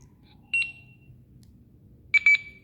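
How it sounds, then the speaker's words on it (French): Two short electronic alert beeps from a Hytera PNC370 two-way radio, a single tone early and a quick double chirp later, sharp and clear over a faint low background hum. "je sais que maintenant, à l'autre bout, ça bip et que Bertrand va me répondre"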